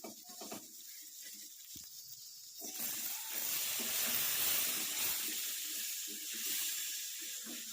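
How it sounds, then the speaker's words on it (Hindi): Onion, tomato and green chilli paste lands in a hot pan and sizzles, a loud steady hissing fry that swells up after a few quiet seconds of light clatter. "अब मैं इसमें टमाटर और प्याज का पेस्ट डाल देती हूँ।"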